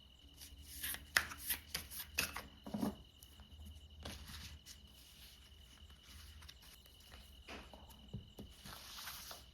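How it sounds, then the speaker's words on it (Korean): Tarot cards being shuffled and drawn from the deck at close range, quiet papery flicks and soft riffling taps in scattered bursts, with a faint steady background hum. "제가 카드를 한 장 더 뽑아보도록 하겠습니다"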